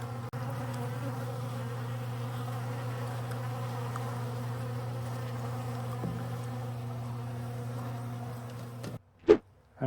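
Honey bees buzzing around an overturned bucket of sugar water, a steady close drone of many wings that holds evenly, then breaks off near the end with a couple of sharp knocks.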